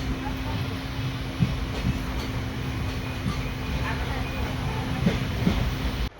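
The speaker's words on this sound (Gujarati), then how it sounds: "બીજી ટ્રેનનું ક્રોસિંગ છે" Inside a moving passenger train from Upleta, another train crosses alongside: a steady, dense rolling rumble with occasional clacks and knocks runs loud and continuous for several seconds, then cuts off abruptly.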